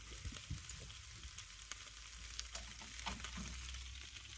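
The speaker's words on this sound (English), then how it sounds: "So yeah, still cooking on low heat" Sweet chilli sausages fry on low heat in a pan, a steady soft sizzle with small crackles and pops running throughout, close and moderately quiet, with no talking.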